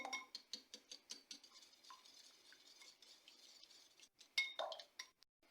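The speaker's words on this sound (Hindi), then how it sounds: "इसको अच्छी तरह बीट करना है आपने।" Quick, light clinking and scraping of a utensil beating a mixture in a bowl for chicken corn soup, steady rhythm, faint and close, with a couple of sharper clinks near the end.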